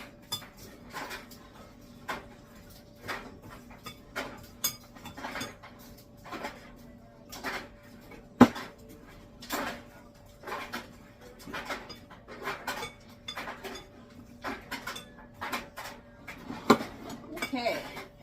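Scone ingredients with hazelnuts, walnuts and heath chips being mixed in a bowl, giving faint, steady rhythmic clinks and scrapes of a utensil against the bowl, repeating roughly every second.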